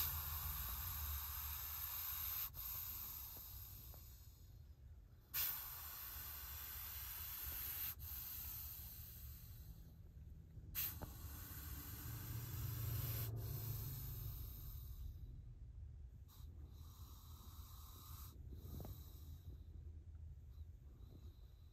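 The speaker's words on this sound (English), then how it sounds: "huffing and puffing, but it sounds more like a tea kettle." A viper hisses in repeated soft, breathy huffs like a tea kettle, several drawn-out exhalations separated by short pauses, faint and close with no talking.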